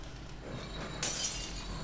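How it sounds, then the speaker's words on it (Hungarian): A glass bottle thrown in The Evil Within shatters with one sudden bright crash and a trail of tinkling shards, loud and up close over a low game ambience. "Magamra dobtam az üveget."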